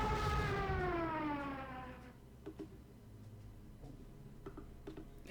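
A Stuka dive bomber in the Panzer Corps strategy game gives a loud descending wail that falls away over two seconds, then gives way to faint ticking and small clicks.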